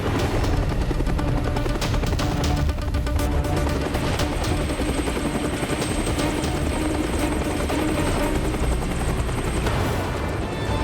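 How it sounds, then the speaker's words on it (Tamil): A helicopter comes in to land near a palace in the animated series Rudra, its rotor thudding loud and continuous from start to finish. "கீழே அந்த பேலஸ் பக்கத்துல ஹெலிகாப்டரை லேண்ட் பண்ணுங்க."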